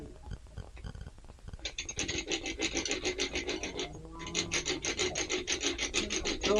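Ancient first-century style hand drill boring a hole into wood, giving a steady rhythmic rasping and rubbing with short repeated strokes, close and fairly loud, no talk over it.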